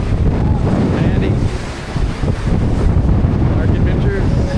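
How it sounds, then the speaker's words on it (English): Strong wind roars steadily across the microphone on the deck of a cruise ship at sea near Costa Maya, a loud, continuous buffeting rush with waves beneath and faint voices in the background. "It's a little windy."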